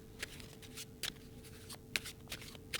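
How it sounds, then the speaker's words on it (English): A deck of playing cards gets a real overhand shuffle: soft, irregular papery slaps and riffles in short separate bursts, close and quiet with no voices. "This is the sound a real overhand shuffle make."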